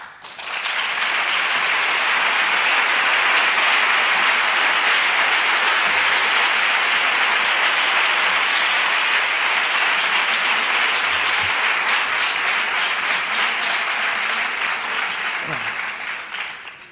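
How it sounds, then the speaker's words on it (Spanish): Audience at an education talk breaks into sustained, dense applause, rising quickly and holding steady for most of the clip before tapering off near the end. "muchas gracias por sus aplausos"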